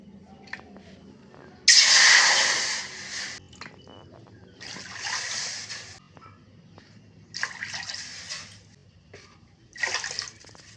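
Water is poured from a bowl onto soaked sago in a pot in several separate splashing pours, the first loudest, with quiet pauses between them in a home kitchen.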